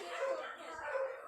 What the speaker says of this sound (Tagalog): Raycon, dami nag-aaway na aso.